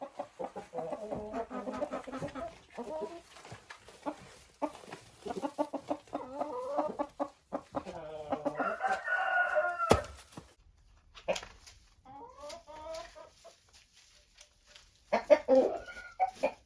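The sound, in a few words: chickens and roosters clucking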